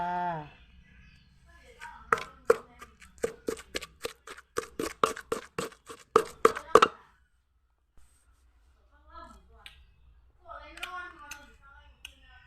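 A pestle pounds Isan jaew bong chili paste in a mortar as a rapid, steady run of about twenty sharp, close thuds lasting several seconds, then stops and gives way to someone speaking softly.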